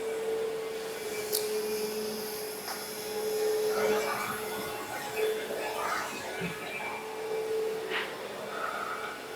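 A Tennant CS5 floor scrubber runs with a steady, moderately loud motor drone and a faint whine. Voices talk quietly over it, and a few light knocks and scrapes come through.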